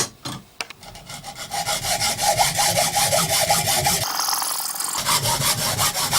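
A hand saw cuts back and forth through a wooden tool handle clamped tightly in a vise, giving steady, loud, rasping strokes in an even rhythm that carry on for several seconds up close.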